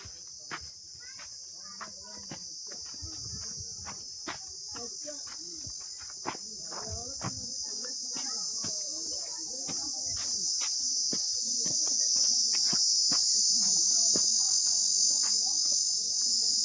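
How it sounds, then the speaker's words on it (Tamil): Insects known as karuva poochi drone in a forest, a constant high, loud whine sustained throughout, with sharp taps and footstep-like knocks and faint rustling underneath. "இந்த காட்டுக்குள்ளே போகும்போது ஒரு சத்தம் வருது, நீங்கள் பார்ப்பீங்க. இந்த சத்தம் தான் வந்து கருவப்பூச்சி."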